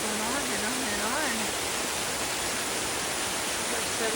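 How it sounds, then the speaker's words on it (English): A waterfall on the Appalachian Trail at Franconia Ridge roars steadily and broadband. It is loud and continuous with rushing water, and a faint voice-like tone appears early on. "This waterfall just keeps going on and on and on."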